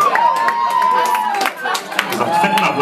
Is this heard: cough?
no